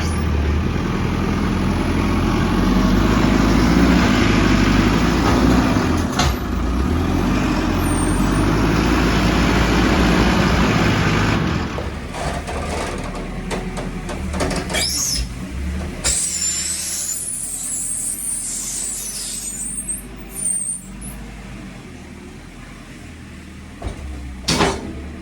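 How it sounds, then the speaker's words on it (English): Farm tractor tipping a trailer load and pushing it in, a steady loud engine rumble that eases partway through, followed by clanks, hydraulic hissing and metallic knocks as the tractor works nearby. "Tip a trailer, then push it in."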